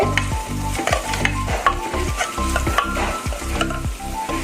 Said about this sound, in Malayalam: ഇപ്പം ഞാൻ ഇഞ്ചി ഒന്ന് വാടി കിട്ടിയാൽ മതി